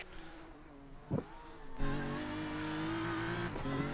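A distant race car engine idles at Winton raceway, then revs up hard to full revs and holds a high, steady whine, with a brief burst of noise just before.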